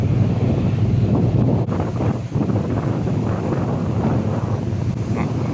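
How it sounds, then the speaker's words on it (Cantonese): Kowloon City to North Point ferry cruising past Hung Hom in Hong Kong harbour, heavy wind buffeting and a low rumbling engine with water wash, continuous and loud. "船嚟到呢度，過咗紅磡呢一個"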